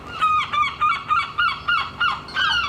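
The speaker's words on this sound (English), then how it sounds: "them seagulls are driving me up the wall" Gulls call outside in a run of about eight loud, close, harsh honking cries that come in a steady rhythm, each one short and nasal, with no talk over them.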